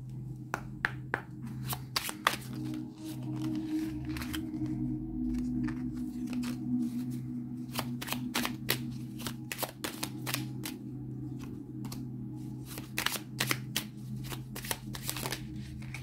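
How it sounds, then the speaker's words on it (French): Oracle cards being shuffled by hand, a long run of crisp riffling flicks and taps in quick irregular bursts, close and clear over a low background hum. "J'ai mélangé les cartes."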